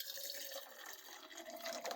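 Cocktail liquid for a 1944 Trader Vic Zombie runs through a strainer in a faint, steady, trickling pour that stays soft and close for a couple of seconds.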